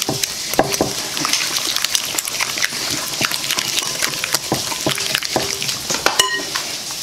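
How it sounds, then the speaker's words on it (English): Sour cream mixture being whisked in a bowl, a steady run of quick, close scraping and clicking strokes that carries on without pause and with no talking. "Give that a whisk."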